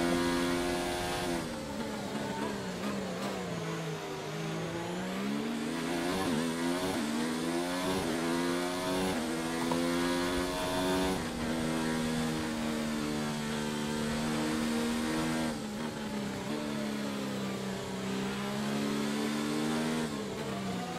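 F2 race car engine in a racing video game, a sustained high-pitched whine that rises and falls with throttle changes and gear shifts, steady and moderately loud for the whole stretch, with no talking.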